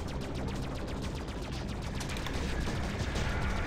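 Ship weapons in the space game Freelancer fire in a steady rapid stream of shots. The barrage is dense and loud, holds an even level throughout and carries no talk.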